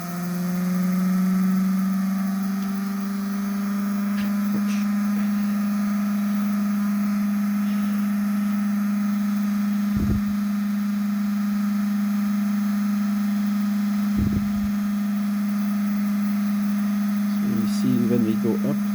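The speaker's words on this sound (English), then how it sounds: "So the motor is started." Electric motor running while charging batteries, a steady loud low hum with a constant whirring tone held for the whole stretch, broken by a few faint clicks and knocks.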